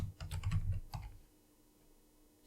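A burst of quick typing on a computer keyboard, with rapid clustered key clicks for about a second. A few isolated taps follow, then near silence and one final click.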